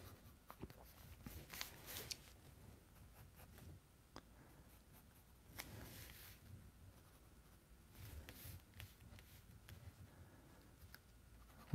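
Graphite pencil scratching and scribbling on paper while sketching Batman, quiet close strokes in irregular bursts with small taps and pauses between them, no voices.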